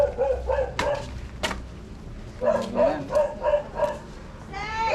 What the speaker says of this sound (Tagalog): Dito may aso na rin.